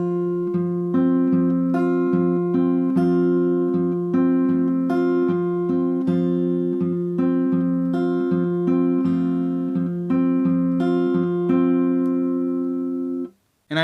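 An acoustic guitar is fingerpicked slowly, with clear, even picked notes in a steady repeating arpeggio pattern, played close and alone for about thirteen seconds before stopping abruptly.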